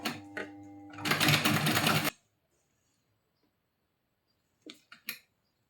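A sewing machine stitching blouse fabric runs in a loud, fast, even burst for about a second, preceded by a few short clicks and followed by silence, then a couple of faint knocks near the end.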